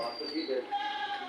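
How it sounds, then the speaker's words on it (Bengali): A goat bleats faintly in a few short calls from a distance, partly under people talking nearby. "ছাগল ডাকছে না না ওই দেখো আওয়াজ পেলাম হ্যাঁ ছাগল আছে"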